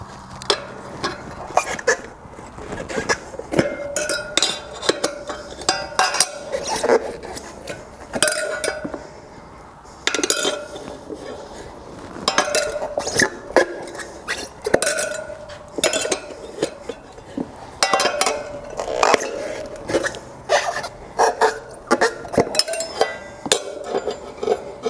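Steel tire spoons levering a motocross tire onto its rim, with repeated metallic clinks, taps and scraping clanks in irregular bursts, close and fairly loud, with no talking.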